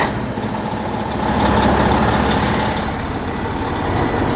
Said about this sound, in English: hold the phone outside so you can listen to the engine on startup.